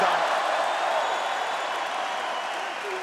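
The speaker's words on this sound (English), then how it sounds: "Every positive action Kozma has is received with applause" A large arena crowd at an OKTAGON MMA fight in Ostrava applauds and cheers steadily, a dense continuous wash of clapping and crowd noise throughout.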